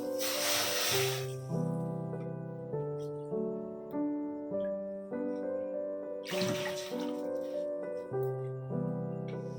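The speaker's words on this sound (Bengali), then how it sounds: "এখানে দিব 2 বাটি জল।" Two short bursts of water are poured into a pan to make sugar syrup for rasmalai, splashing in under steady background music.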